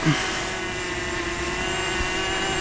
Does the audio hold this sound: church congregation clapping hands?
no